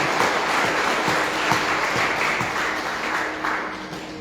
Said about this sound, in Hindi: हम श्रीमान कांति प्रभु और जया माता जी के लिए सब लोग एक बार जोरदार ताली बजा करके उनको स्वागत करें।